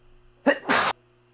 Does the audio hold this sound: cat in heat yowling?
no